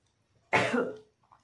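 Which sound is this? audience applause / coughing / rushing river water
coughing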